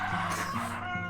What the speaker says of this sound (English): Yes, that is the rooster that is coming from me